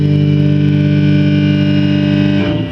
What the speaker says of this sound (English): here's the wet signal and the dry signal going through both amps together